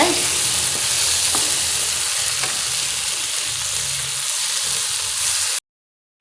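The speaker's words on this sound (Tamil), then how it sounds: "தக்காளியை நல்லா வதக்கிக்கோங்க" Tomatoes sauté loudly in a pan for vada curry, giving a strong continuous sizzle with occasional stirring scrapes before the sound cuts off abruptly near the end.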